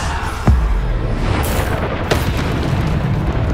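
A Bombarda explosion spell goes off in Hogwarts Legacy with a heavy close boom, followed by debris crackle and a second blast a moment later, all over low rumbling ambience.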